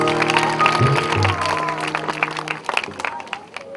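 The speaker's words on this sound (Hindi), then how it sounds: "जोरदार ताली।" An audience claps loudly at a devotional Sindhi bhajan performance, as the sung music fades and a dense, uneven round of applause takes over.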